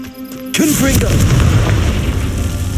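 A Confringo fire spell blasts in the Hogwarts Legacy video game, with a sudden loud boom that keeps rumbling and crackling for about two seconds; a voice is heard briefly before the burst.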